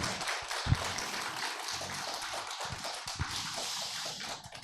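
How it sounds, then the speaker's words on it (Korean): An audience claps for a university professor after a philosophy forum lecture on Francis Bacon, a steady wash of applause of moderate loudness that thins out toward the end. "큰 격려의 박수 부탁을 드립니다"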